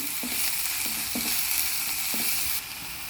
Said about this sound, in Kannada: ಇದು ಒಂದು 5 ನಿಮಿಷ ಸಣ್ಣ ಉರಿಲಿ ಫ್ರೈ ಆಗಬೇಕು